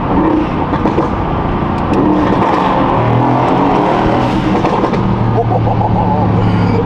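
A sports car engine roars steadily with a deep exhaust rumble under cabin noise, loud and close throughout.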